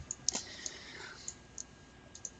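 Sharp, faint mouse clicks in a quiet room, scattered irregularly, about eight in all, as fairings are jettisoned in a spaceflight game; no talking.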